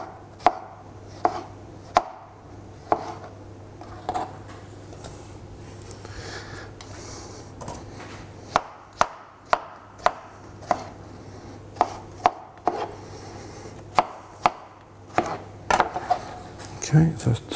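A knife chops plums into chunky segments on a board, a string of sharp, close cuts arriving in irregular bursts with quiet pauses and faint breathing between them.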